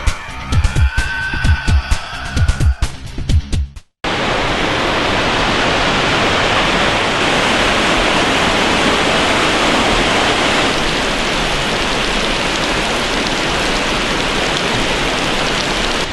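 A waterfall in Tasmanian temperate rainforest roars as a loud, steady, dense wash beside a den site, starting abruptly after a few seconds of other sound and continuing unbroken.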